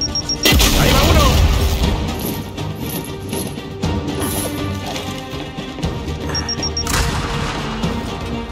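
Grenade blasts in a Gears 5 training range: a loud, broadband boom hits at the start, a second blast comes near the end, and rumbling crashes and debris fill the gap between them.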